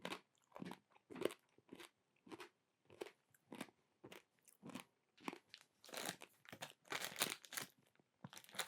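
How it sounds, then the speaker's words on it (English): Close, loud crunching as someone bites and chews hard, crisp pork scratchings, with about twenty sharp cracking bursts in an uneven, steady chewing rhythm and no talking. "That is not my microphone gone wrong. That is crunchy."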